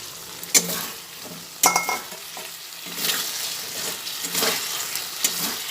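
Fried potatoes are tipped into hot oil in a pan and stirred, with sharp scraping knocks from the spoon over a continuous close sizzle, and no voices are heard.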